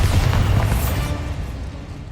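A Bombarda explosion spell goes off in Hogwarts Legacy, giving one loud, deep boom that rumbles and fades over about two seconds.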